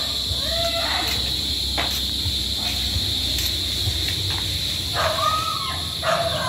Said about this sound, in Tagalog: maingay yung mga aso, hindi nila tayo kilala